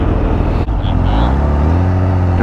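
A 2019 Kawasaki Ninja H2 motorcycle with a quick shifter roars loud and close under heavy wind noise, its engine pitch sweeping up and dropping as it shifts through gears.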